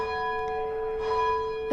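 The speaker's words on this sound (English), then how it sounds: "if you hear the sound of the bell, it is very iconic and the origin is sacred, very sacred" A church bell in the Perth bell tower hums with a sustained, ringing resonant tone, steady and moderately loud, with a faint new strike near the end and no voices.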